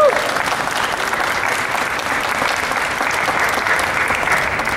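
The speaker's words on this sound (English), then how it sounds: "let's applaud for all the actors that played in this" An audience at the Coco Day ceremony at Los Angeles City Hall applauds the actors, a dense, even patter of clapping that holds steady throughout.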